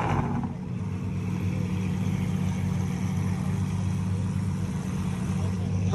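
Lamborghinis set off together on a rally, their engines making a steady loud roar and rumble throughout, with nearby voices and crowd noise partly mixed in.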